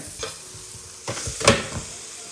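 Chorizo waffle batter starts cooking in a hot waffle iron, giving a soft sizzle with a few brief stirring or scraping clicks and one louder burst near the middle, close and fairly quiet.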